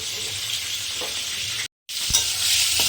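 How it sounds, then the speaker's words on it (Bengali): Pointed gourd pieces fry in a pan at home, a continuous close sizzle with a few stirring knocks and a brief silent cut partway through. "পটলগুলো ভেজে ভেজে নিচ্ছি"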